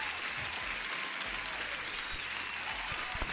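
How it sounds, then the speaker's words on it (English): Steady, dense applause during a live futures trading session, continuous clapping at a fairly low, even level with no voices over it. "And a huge applause for Zoltán."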